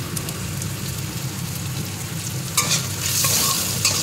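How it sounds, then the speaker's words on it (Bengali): Jackfruit seeds fry and sizzle in a pan with salt and turmeric, a steady close hiss carrying scraping stir strokes, growing brighter and louder in the last second and a half. "একটু হলুদ দিয়ে দিলাম, দিয়ে নাড়াচাড়া করে ভেজে নিলাম।"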